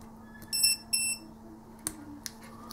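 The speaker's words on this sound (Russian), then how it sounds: "Это будет пищать." Li-po battery tester alarm for 1S–8S packs, connected to a small two-cell pack from a toy car, gives two short high-pitched beeps about half a second apart, followed by a few faint clicks.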